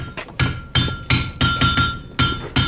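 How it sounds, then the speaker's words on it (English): A blacksmith hammers metal in a stone-walled forge, ringing blows landing in a quick, uneven rhythm of about ten strikes, close and loud with no talk. "And the blacksmith, as you can hear, is obviously at work."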